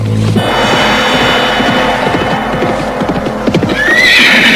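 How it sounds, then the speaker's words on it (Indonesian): Horse ridden at a gallop, hooves clip-clopping in a fast rhythm, then a loud high neigh near the end, up close, with no voices. "Lihat caranya menunggang kuda."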